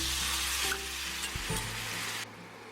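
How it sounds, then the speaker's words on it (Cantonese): Chicken wings with chu hou sauce sizzle and bubble in a pan as water is added to bring it to a boil, a steady loud hiss with stirring bumps, ending in a sharp drop to quieter cooking. "就可以加埋清水落去煮滾"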